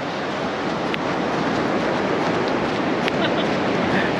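Atlantic Ocean surf rolls onto the beach at St. Augustine, Florida, a steady broadband wash of breaking waves with wind, continuous and fairly loud.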